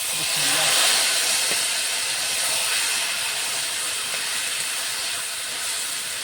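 Oil with fried lentil bori, garlic and onion is poured into a pan of vegetables, bursting into a loud, broad hiss that stays strong and steady throughout.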